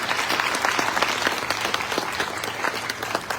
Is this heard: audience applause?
yes